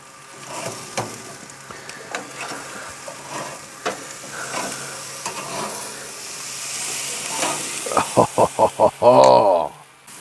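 Pork chops sizzle and hiss on a Monument gas grill, a steady frying crackle with clinks of tongs and a burst of louder sizzling near the end as meat is moved.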